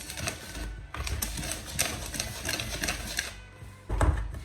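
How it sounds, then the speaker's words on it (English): Dry chocolate cake ingredients are whisked in a bowl, making quick, close, rattling taps and scrapes in a fast continuous rhythm, with a brief pause near the end and no speech. "I'm just going to whisk everything and make sure that it's well combined."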